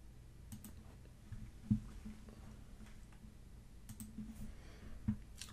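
Computer mouse left clicks, a few faint sharp clicks spaced seconds apart over quiet room noise.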